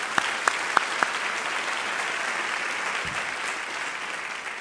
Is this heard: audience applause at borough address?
yes